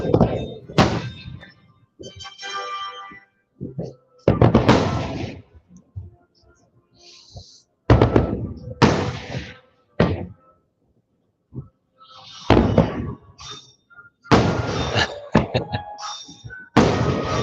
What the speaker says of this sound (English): Half the time these fireworks sound like somebody playing with bubble wrap.